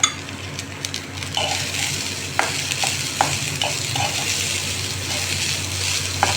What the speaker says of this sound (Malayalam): ക്യാബേജ് ഇട്ടു കൂടെ തന്നെ പയറും ഇനി ഇതെല്ലാം കൂടി നന്നായിട്ടൊന്ന് ഇളക്കുക